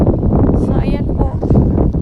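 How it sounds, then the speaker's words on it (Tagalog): Strong wind buffets the microphone beside a river near a riprap flood-control wall, a loud rumbling roar that runs throughout with people talking over it. "Lakas ng hangin pala."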